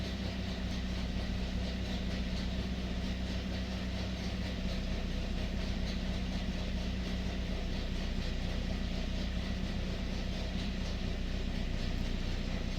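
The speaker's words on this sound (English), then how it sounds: "The engine speed is a little bit high." A 2005 Pontiac Vibe with about 250k miles idling slightly high, a steady, faint low hum of the engine running continuously without voices.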